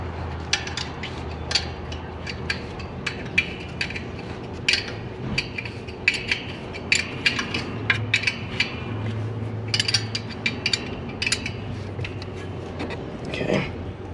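Bolts being tightened on an upgraded EGR cooler on a 6.7 Cummins engine, with sharp metallic ratchet clicks and clinks in irregular bursts over a low hum, close up and moderately loud.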